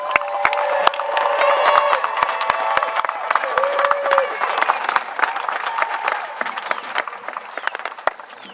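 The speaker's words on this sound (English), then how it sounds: "let's give our class of 2020 a round of applause, please." Crowd applauding and cheering for a high school class of 2020 at a graduation ceremony, sharp claps and shouts over a busy crowd that slowly thins toward the end, with a few louder whoops.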